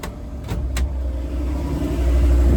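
A car engine idles steadily at around 1,600 RPM during a sticky tire traction test, a continuous low rumble that grows slightly louder over the few seconds, with a couple of faint brief clicks early on.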